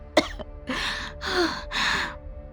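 A woman gives a sharp gasp followed by three harsh, breathy coughing fits in quick succession, close and strained.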